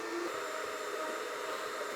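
A hairdryer blows warm air over cocoa beans in a chocolate melanger, a steady, faint whooshing hum with an airy hiss that holds unchanged throughout.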